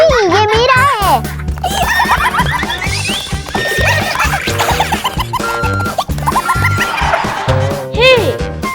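A toy horse whinnies and neighs in a lively, up-and-down musical pattern, sounding several times under and between children's excited speech and bright background music.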